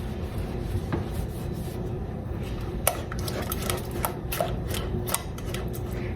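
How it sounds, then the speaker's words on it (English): Pecan pie brownie mixture being stirred continuously in a pot over medium heat, with soft scraping and occasional light metallic clinks of a utensil against the pot over a steady cooking hiss. "we are going to continually to stir this to get it well combined"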